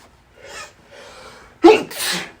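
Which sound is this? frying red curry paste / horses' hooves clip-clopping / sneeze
sneeze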